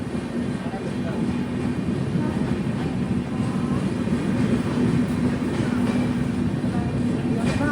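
Steady rumble of a train at a hill-country railway station with goods trains standing nearby, a continuous low drone with a faint hum throughout and no distinct breaks.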